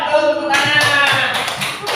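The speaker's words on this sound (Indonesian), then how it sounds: "Betul, tepuk tangan." Schoolchildren clap their hands in an elementary classroom, a burst of quick, close claps beginning after half a second and continuing in uneven groups over a background with voices.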